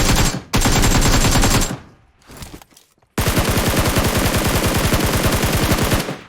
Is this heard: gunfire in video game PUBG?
yes